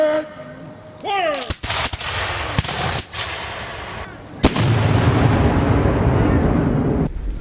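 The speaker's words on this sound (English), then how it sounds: "There's a fusillade, a volley of musketry from the Patriot forces" A Patriot forces' musket volley at the Battle of Moore's Creek rings out as a series of sharp, loud reports. Several shots crack close together, then a dense rumbling burst of fire rolls on to the end.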